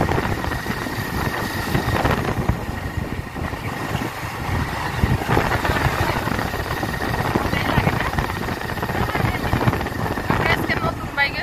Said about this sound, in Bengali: আজকে নতুন বাইকে যাইতেছি।